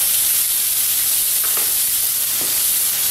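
Onion sizzles with bacon in a skillet, a loud, steady, hissing fry close by, with a few faint stirring scrapes.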